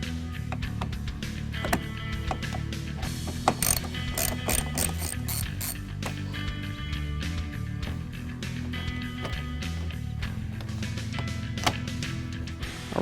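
Rapid ratchet clicking while Torx bolts are loosened on a 2013 Ford Focus ST during a coil spring install, with repeated bursts of close mechanical pawl clicks and a few sharper knocks over a low garage hum.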